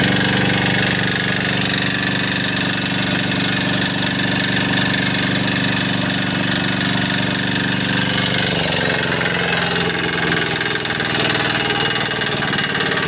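A Crown CDP80 diesel water pump engine runs loudly and steadily up close with a constant throbbing drone, its tone shifting slightly partway through, with no talking.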